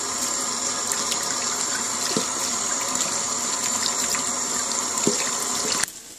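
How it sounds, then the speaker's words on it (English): Kitchen faucet water streams steadily onto eggplant being washed in a sink, with a couple of light knocks and splashes before the flow cuts off at the end. "wash it in the runny water."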